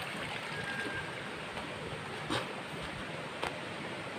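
Steady broadband rushing of flowing water, continuous and fairly loud, like a river running nearby, with a couple of brief louder splashes.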